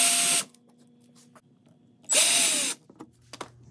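A power drill works the screws out of the back panel of an Arcade1Up arcade cabinet in two loud, steady whirring bursts separated by a short pause, with light handling clicks after them.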